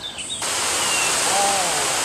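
A steady, loud wash of rushing water fills the scene, a broad continuous roar from a wide waterfall near Yuanyang, China, with a brief quieter moment at the very start.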